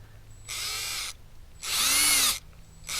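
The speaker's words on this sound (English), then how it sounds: "I was able to take the drill" A power drill running in reverse whirs in three short bursts, the motor spinning up and stopping each time, close and fairly loud, turning a combine engine.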